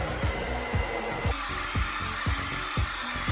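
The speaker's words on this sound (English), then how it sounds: "With a blow dryer, you can just push this part up and blow it so it stays back." A blow dryer blows hair back with a steady, loud airy whoosh and hum, joined by a regular low thumping pulse roughly twice a second.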